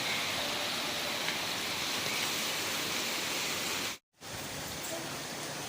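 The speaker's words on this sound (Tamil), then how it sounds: "ஈவினிங் ஆக ஆக ஆக மழை ஹெவியாக இருக்குது" Heavy rain pours down in Velachery, Chennai as a loud, steady broadband hiss with no breaks in the downpour except one brief dropout near the end.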